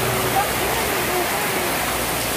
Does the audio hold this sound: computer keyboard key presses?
no